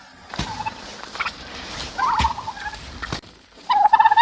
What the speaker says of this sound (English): Turkeys always want new things entirely for themselves.